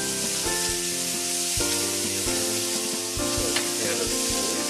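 Venison browns in butter in a hot pan with a loud, continuous close sizzle, while steady tones hum in the background.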